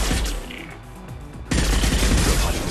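Dense gunfire bombardment in the video game Mass Effect 2 bursts in suddenly midway, a loud continuous barrage of overlapping shots following a quieter stretch of ambient game sound.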